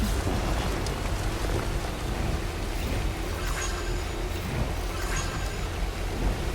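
Steady, dense rain falls without a break in the video game Death Stranding as the downpour known as timefall, a constant loud hiss with no voices over it.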